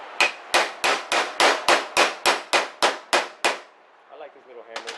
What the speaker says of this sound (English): I like this little hammer. It's got more precision.